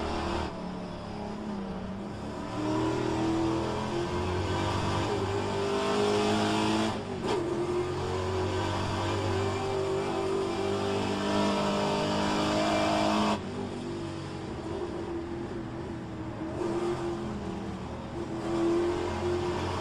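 Pontiac race car in a racing video game at the Mont Tremblant circuit: a loud, continuous engine drone with rising and falling revs, briefly dipping twice as if lifting off the throttle, with no talking.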